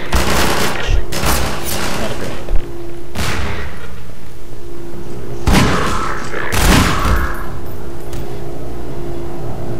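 Automatic turrets in Half-Life 2 firing several heavy bursts of gunfire at irregular intervals, loud and booming against a steady game background hum.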